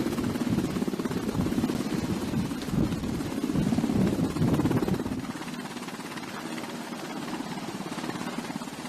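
A helicopter hovers close by, its rotor a steady, loud, chopping roar with a rough buzzing edge that eases slightly toward the end.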